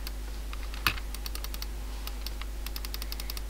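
Rapid computer mouse clicks from a player repeatedly clicking on a dragon to tame it in Minecraft, a steady run of sharp, light ticks with one louder click early on, close and clear with no talking.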